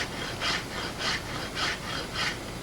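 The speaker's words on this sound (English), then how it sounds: "It's an old horseshoe rasp." An old horseshoe rasp files a wooden stave for a primitive bow, making four even, scratchy strokes in a steady back-and-forth rhythm, close and fairly quiet, with no talking.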